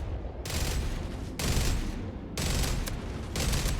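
Ship weapons in a space combat video game fire in rapid sustained bursts, loud rattling volleys starting and stopping in three waves.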